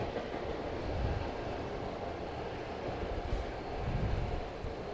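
A Long Island Railroad train rolls past close by, a steady, loud rumble with broad low-end roar and faint rail clatter holding for the whole stretch, swelling slightly near the start and toward the end, with no voices.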